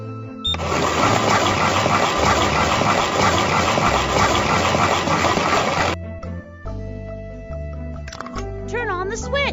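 A cartoon concrete mixer loaded with sand, cement and water churns in a loud, steady wash for about five seconds. It then drops away to quieter tones and light music.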